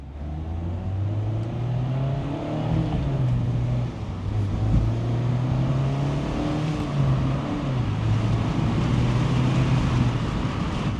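A 2025 Mazda MX-5 35th Anniversary Edition convertible accelerates hard, its engine note climbing steadily in pitch with a loud, continuous roar and heavy wind rush around the open car.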